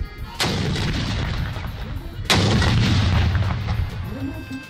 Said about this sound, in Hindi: पाक फौज के चाको चौबंद दस्ते ने तोपों की सलामी दी